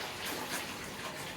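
Water gushes hard from a tap, a loud steady broadband rush filling the whole moment without breaks or speech.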